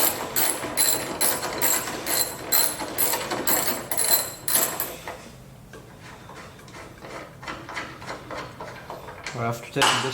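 Ratchet with a 10mm socket working a bolt loose on a 2020 Ford F150 tailgate: rapid rhythmic clicking up close for about five seconds, then softer scattered clicks and handling noises.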